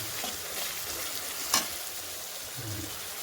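Spices fry in a pan for a rohu fish curry, a soft, steady sizzle with a single brief louder crackle partway through, heard faintly and alone.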